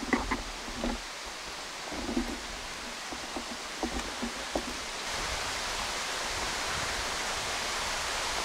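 The waterfall at Genji Falls gives off a steady, broad rush of falling water, with faint footsteps and rustling over it early on before the roar fills in evenly.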